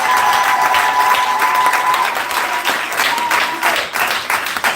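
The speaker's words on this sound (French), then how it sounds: "il mérite quand même aussi nos acclamations" Congregation at Peniel Tabernacle in Montreal applauding and cheering, loud sustained clapping from a large crowd with a high tone ringing over the start, the ovation swelling and easing slightly across several seconds.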